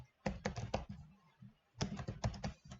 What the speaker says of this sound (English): we're going to type this in